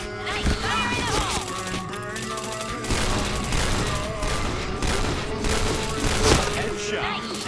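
Gunfire in the shooter game Point Blank, with dense, continuous rapid shots, booms and game sound effects layered over music, loud and unbroken throughout.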